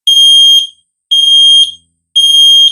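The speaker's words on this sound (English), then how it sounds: "So the first method is just by pressing the center surface of the alarm itself." A ZEN smoke alarm sounds its test signal in three long, loud, piercing beeps with short silent gaps between them. The beeps are close and alone.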